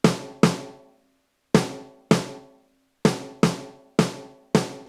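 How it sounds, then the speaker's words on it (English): A ringing snare drum struck eight times in uneven pairs, each hit bright and sharp with a long sustained ring, played alone. "Okay, very ringy snare."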